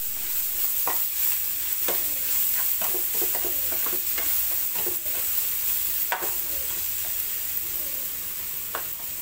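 Grated raw mango sizzling and frying in a pan with oil and spices, a steady hiss broken by soft clicks and scrapes of stirring, close and moderate in level.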